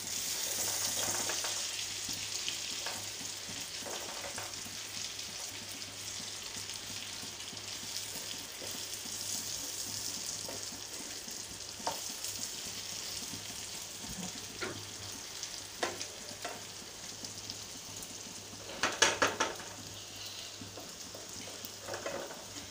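Hilsa fish pieces fry with onions in a pan, giving a low, even hiss throughout. Sparse spatula taps and scrapes mark the fish being turned, with a brief louder clatter near the end.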